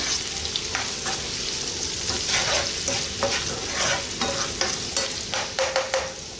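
Leftover rice frying and being stirred in a pan for Marathi fodnicha bhaat made with prawns: a steady close sizzle with scraping spatula strokes and sharper clicks toward the end, no voices.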